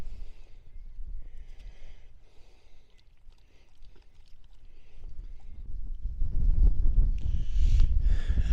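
Gusty wind on the summit of Moel Siabod in Wales buffets the microphone, rumbling low and growing louder and rougher toward the end, with faint higher whooshing above.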